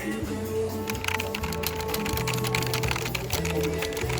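Fifth display computer keyboard in a retail store being typed on, with a steady run of soft key clicks mixed into loud in-store background music.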